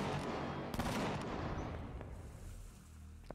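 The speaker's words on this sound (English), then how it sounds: "our turrets are doing a pretty good job" Base defense turrets in the survival game Empyrion Galactic Survival fire at attackers in a dense roar of rapid gunfire that is loudest early and fades over the stretch, with a few sharper cracks standing out.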